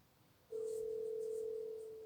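An outgoing phone call's ringing tone: a single steady electronic tone begins after a short pause and holds for about a second and a half, fairly quiet and alone.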